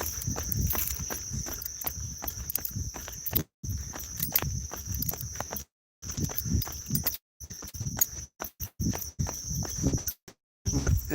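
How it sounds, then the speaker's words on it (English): Steady high-pitched chirping of crickets fills a forest under a canopy, mixed with rhythmic footsteps of someone running along a trail, with brief dropouts where the sound cuts out entirely. "Crickets, birds chirping."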